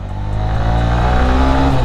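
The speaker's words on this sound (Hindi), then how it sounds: "इमीडिएट में पावर लेकर ब्रेकिंग करके दिखाता हूँ।" A 2025 Honda Shine 125 BS7 motorcycle accelerates hard, its single-cylinder engine note rising steadily in pitch, loud and close, with no voices.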